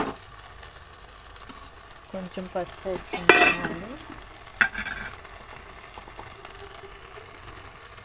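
Tomatoes fry in a pan for a potato and egg curry: a loud sizzle with brisk stirring, and utensil scrapes and clinks against the pan that peak sharply partway through.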